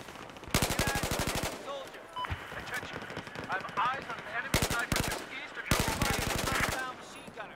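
Rapid automatic gunfire in the video game Battlefield 4 comes in three loud bursts of close machine-gun fire, separated by scattered single shots and game effects, with a player talking between bursts.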